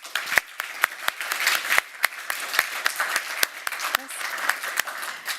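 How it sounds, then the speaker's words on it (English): Seminar attendees at a quantum seminar applaud the speakers, a sustained round of clapping with distinct sharp claps standing out over the crowd, alongside some murmured talk. "please give a round of applause for all the speakers who were here for the time"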